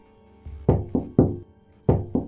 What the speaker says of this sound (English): the knocking on the door rang out again, strong and unexplained